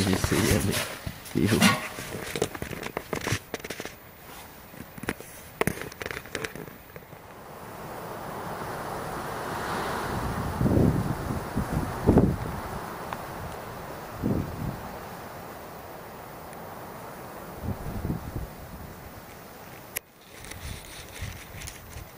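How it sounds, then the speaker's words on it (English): Strong wind buffets the microphone beside a lake while canoeing on a summer bushcraft camp in Sweden, a steady broadband rush with gusty swells, mixed with brief thumps and handling noises. "there's quite a lot of wind here"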